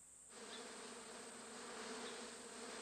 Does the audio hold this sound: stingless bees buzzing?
yes